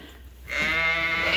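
A flock of ewes and sheep bleating close by, a sustained, loud bleat rising suddenly after a quiet start and holding steady to the end, with no talk.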